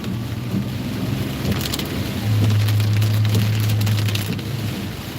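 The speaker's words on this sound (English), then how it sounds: "But we need this rain." Steady, loud rain falling outdoors in the southern United States, a continuous dense hiss with a low engine-like drone underneath partway through and no talk.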